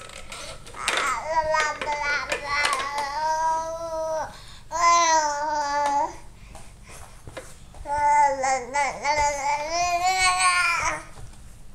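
A baby babbles and coos in repeated silly vocal bursts, close and clear, with short pauses between phrases and a faint background hum.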